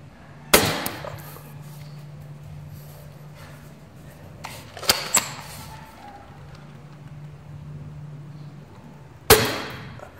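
Three sharp, loud snaps from an airsoft pistol ring out at irregular intervals, each one standing alone against a quiet hum, with a fainter knock between them.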